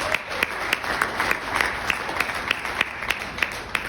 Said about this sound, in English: round of applause, thanks,